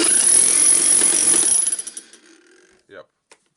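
A Hilti TE 706-AVR demolition hammer with a newly replaced field runs hard and loud, a dense rapid hammering that winds down into slowing pulses and stops, followed by a couple of short clicks.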